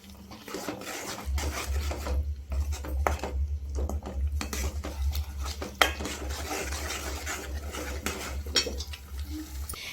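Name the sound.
stirring ginger garlic paste into fish curry masala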